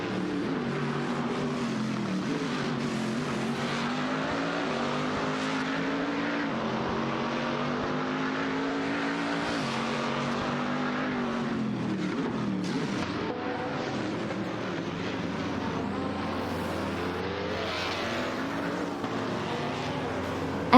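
Racing engines from several video-game race cars, a Mercedes SL and an Ascari among them, drone loudly and continuously, their pitch rising and falling through gear changes as the cars battle closely for position.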